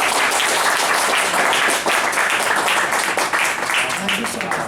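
An audience claps loudly at a live conversation event. The dense, steady clapping holds without a break from start to finish, with voices mixed in underneath.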